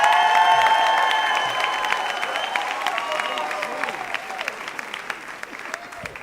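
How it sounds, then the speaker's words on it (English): Storytelling-night audience applauding and cheering. Dense clapping is loudest at the start and tapers gradually over several seconds, with a few shouts and whistles early on. "everybody keep clapping as we bring up our next storyteller, Richard Cardillo."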